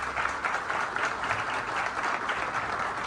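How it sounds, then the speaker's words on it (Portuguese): An audience at a political breakfast event gives city councillors a round of applause, steady massed clapping at moderate loudness lasting the full three seconds without speech. "Uma salva de palmas para eles, gente."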